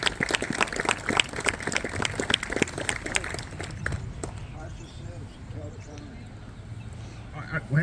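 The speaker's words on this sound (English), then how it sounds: "Let's give the Legion Riders a nice round of applause." A parade crowd claps in applause for the Legion Riders, with dense rapid claps that swell early and then thin out into scattered claps and murmur, heard near and fairly loud.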